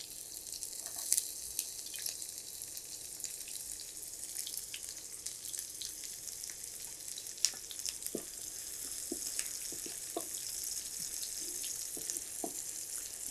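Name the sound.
onions frying in oil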